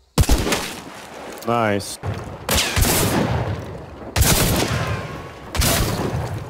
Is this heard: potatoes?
no